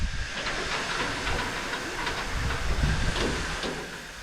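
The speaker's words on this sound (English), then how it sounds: "Built by the Hunslet Engine Company in Leeds in 1937, Jesse, our engine, pulled the small train well." A 1937 Hunslet steam locomotive hauls a small train on a preserved railway in South Wales, giving a steady hissing rumble with faint rhythmic chuffs and rail clatter, moderately distant and continuous, with no talking.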